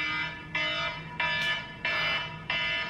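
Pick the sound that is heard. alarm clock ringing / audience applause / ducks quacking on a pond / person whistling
alarm clock ringing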